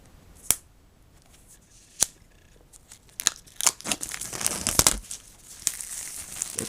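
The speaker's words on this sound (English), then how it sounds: "Let's go ahead and make a little cut here," Plastic wrap being cut and peeled off an iPhone 6s Plus box: a few sharp snips, then a dense burst of close crinkling and tearing plastic.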